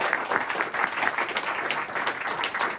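A lecture audience applauds panelists, a continuous dense wash of many people clapping at moderate loudness with no voices over it.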